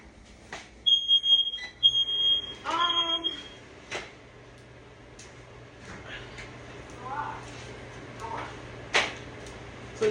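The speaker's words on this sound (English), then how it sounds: "Y'all remember when I'm cooking, that smoke detector love to go off." A smoke detector in a kitchen sounds its alarm in short repeated chirps, set against someone talking and some room noise.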